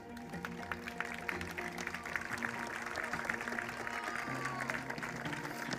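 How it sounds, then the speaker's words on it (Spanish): Sustained applause from a pageant audience at the Mister International Spain 2023 final, steady and fairly loud throughout, with background music mixed in. "Un fuerte aplauso de nuevo."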